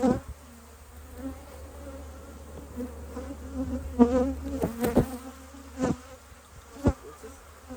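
Honey bees buzzing around an open hive during an apiary inspection, a steady close drone with a few louder passes near the microphone.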